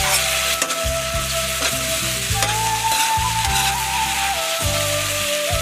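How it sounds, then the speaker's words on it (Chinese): Chopped scallion, ginger and garlic sizzling loudly in hot oil on a heated iron plate, a dense crackling hiss broken by repeated scraping stir strokes, close up with no voices. "铁板烧热后倒油，把葱姜蒜倒进去爆香"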